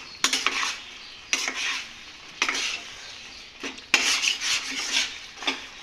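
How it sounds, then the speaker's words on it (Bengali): A spatula presses and mashes jujube pickle in a pan, giving five or six distinct scraping strokes in an uneven rhythm over a soft background sizzle. "ওই জন্য খুন্তি দিয়ে একটু কুলগুলো একটু ঠেসে ঠেসে দিচ্ছি আমি।"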